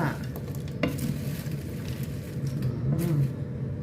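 Close-up scraping and stirring of mushrooms and crab fat in an overfull small pan over a steady sizzle of frying, with occasional clinks and no talking.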